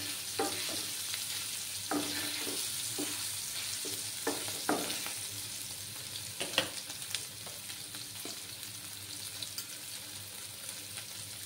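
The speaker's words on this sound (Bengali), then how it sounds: "সামান্য একটু ভাজার পরে আমি নামিয়ে নেব।" Paneer pieces fry in hot oil with a steady sizzle, joined by scattered scrapes and taps from stirring. The sound is close and fairly even, with no voices.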